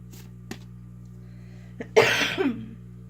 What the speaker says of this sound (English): It was just this uncontrollable cough.